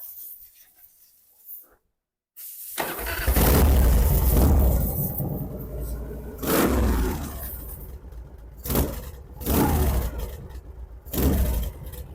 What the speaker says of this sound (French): Tu nous fais un démarrage qu'on entende un petit peu?